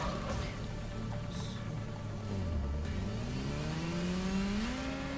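A car engine hums steadily while driving in Gotham Knights, then its pitch rises smoothly as it accelerates, over a rain-like hiss in the background.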